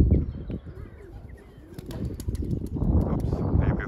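Racing pigeons returning from a 30 km training toss, with soft wing flaps and scattered bird sounds over outdoor background noise that grows louder toward the end.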